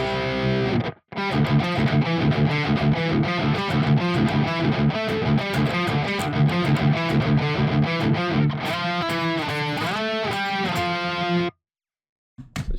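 Loud distorted electric guitar plays a steady sequence of octave power chords, starting after a brief gap and ringing densely for about ten seconds before stopping abruptly, alone without any talking.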